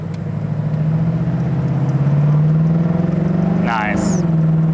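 A 1966 Ford Mustang convertible cruises with a steady engine drone that climbs gradually, then dips as the transmission shifts near the end, heard from inside the car.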